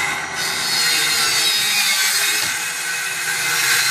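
A circular saw rips strips of wood in a steady, loud, close whining cut that holds for about four seconds with no talk.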